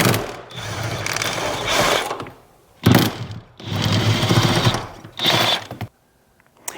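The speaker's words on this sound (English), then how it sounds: "So now we're going to remove the 2 front bolts completely." A ratchet loosens and removes the front seat bolts inside a Toyota Tacoma, giving three loud, close bursts of rapid mechanical clicking separated by short pauses, with no speech.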